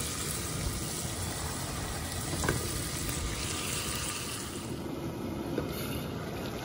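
Onions and salt frying in a pan, giving a steady broadband sizzle throughout with no voices, a faint scrape of stirring partway through.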